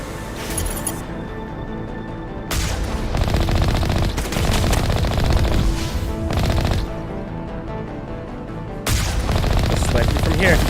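Gunfire aimed at a Colossus in Mass Effect Legendary Edition: rapid, sustained automatic fire in long loud bursts, pausing briefly between volleys, with other battle sounds mixed in.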